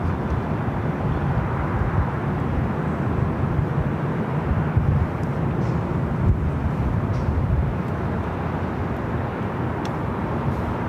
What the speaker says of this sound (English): That is a Delta A350-900 now being pushed back.